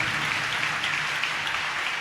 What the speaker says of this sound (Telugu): చప్పట్లు కొట్టి మన ప్రభుని స్తుతిద్దాం అందరి గట్టిగా